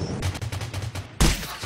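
Gunfire in a mobile shooting video game: a rapid burst of automatic shots, then a louder, heavier blast near the end, close and punchy with no talk over it.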